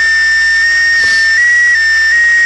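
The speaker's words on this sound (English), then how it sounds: "you can hear the signals going on in the background" Amateur radio receiver tuned to the 20 meter band carrying JT-65 digital signals: loud, steady whistling tones that hold pitch and step slightly, over a faint hiss of band noise.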